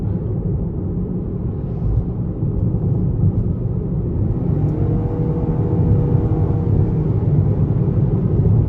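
A 2021 Toyota Corolla Hatchback Special Edition with a CVT and naturally aspirated engine accelerates on a test drive, heard from inside as a steady low rumble and whir that rises in pitch and swells midway.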